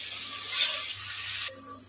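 Black and yellow mustard seeds sizzle in hot oil with a steady, close hiss that eases off slightly near the end.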